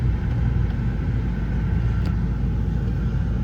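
A pickup truck being repaired by a mobile mechanic drives in tow haul mode, giving a steady loud engine and road rumble heard from inside the cab with no talking.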